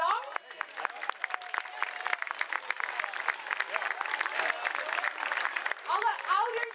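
Audience applause and clapping after the final bow of a children's Lion King musical, a steady sustained ovation from a crowd of parents throughout, with a brief louder swell near the end.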